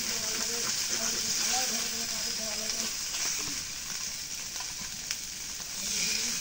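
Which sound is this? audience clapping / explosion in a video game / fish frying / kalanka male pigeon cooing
fish frying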